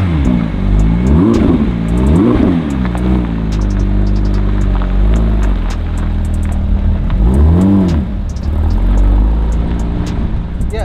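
A manual Porsche GT3 being driven, its engine revving up and down in repeated surges over a constant low rumble of road noise from inside the cabin, with no talk.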